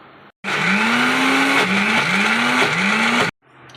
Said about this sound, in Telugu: ఇప్పుడు దీన్ని ఇంకొకసారి మనం మిక్సీ వేసుకుందాం.